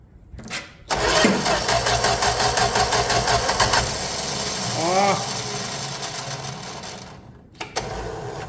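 A 1965 Plymouth Valiant 100 slant six, long unused, cranks steadily for several seconds with a fast rhythmic starter churn, catching briefly and nearly starting before dying away, with a short burst of cranking again at the end.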